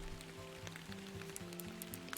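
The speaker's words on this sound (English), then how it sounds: "And it's still raining." Steady rain falls in the fishing game Fishing Planet, a constant soft patter and hiss with scattered brighter drops, heard over a low sustained in-game hum.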